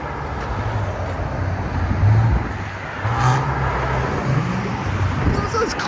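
A 2017 Infiniti Q60 Red Sport with a 3.0L twin-turbo V6, catalytic converters removed and exhaust valves closed, passes by as a quiet, steady engine drone that swells slightly around the middle, with faint voices nearby.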